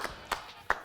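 A few sharp hand claps ring out in a short, uneven burst, three distinct smacks close by, loud against a quiet background.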